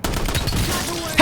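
A burst of rapid gunfire in a first-person shooter video game, a loud rattling volley of shots right up close, ending with a sharp final crack.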